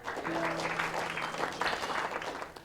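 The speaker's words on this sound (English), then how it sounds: "and he is applauded" Applause for a football team manager rises as a soft, distant patter of clapping, with tonal hum and faint talk mixed underneath.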